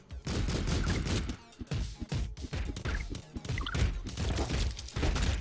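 Rapid bursts of gunfire erupt in Streets of Rogue multiplayer gameplay, dense overlapping shots and impacts crackling nearly continuously with short gaps, loud and close throughout.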